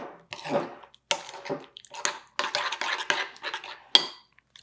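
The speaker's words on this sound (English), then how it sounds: "I'm just going to mix this up." Keto cauliflower potato salad mixed in a bowl with dill relish: a run of close, irregular scraping and clinking utensil strokes with soft wet squelches, in short bursts separated by brief pauses.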